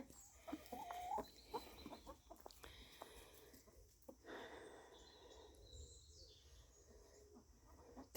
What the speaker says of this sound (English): Definitely a cockerel.